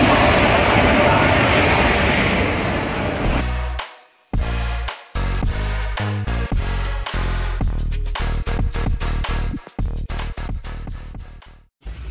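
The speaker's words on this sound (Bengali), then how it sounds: "সেই এক্সপ্রেস আমাদের সামনে চলে এসেছে।" The Kumbh Express pulls into a station in the rain: a heavy rushing rumble first, then a run of sharp, irregular clanks and knocks with brief gaps.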